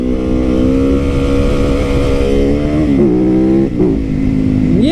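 A small dirt bike engine revs loudly and close, holding a droning buzz with quick throttle blips and rising pitch sweeps toward the end, with no talking.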